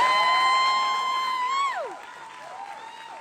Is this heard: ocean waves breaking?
no